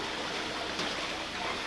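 Floodwater rushing steadily through a flooded street in Nabadwip, a continuous broadband wash of flowing water with no pauses, fairly close and uniform in level throughout.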